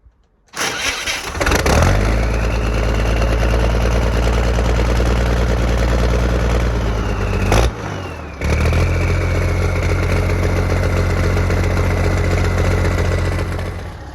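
A large tractor diesel engine starts up in a field, then settles into a steady, loud idle while warming up, with a brief dip partway through before running on evenly.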